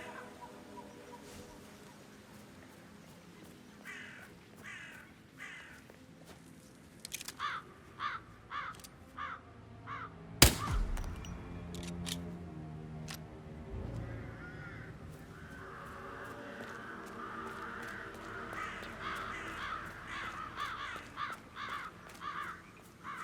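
Crows caw repeatedly in a moorland setting of the Hitman 3 video game's Dartmoor level, short harsh calls in bursts, moderately loud with a sharp thud midway and a faint background hum.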